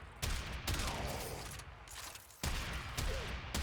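Hek shotgun blasts in the game Warframe, fired as loud, booming shots at an irregular pace, roughly four heavy reports, each with a short sustained roar and tail, with no talking.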